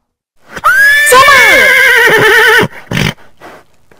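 A horse lets out a long, loud, shrill whinny close by, followed by a brief snort and a few softer sounds.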